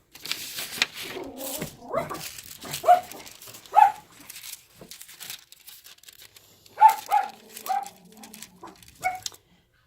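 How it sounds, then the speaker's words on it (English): Household dogs bark in scattered bursts indoors alongside rustling and crinkling of foil and paper sheets, with a few sharp yips and whimpers at moderate distance. "Of course my dogs have to bark."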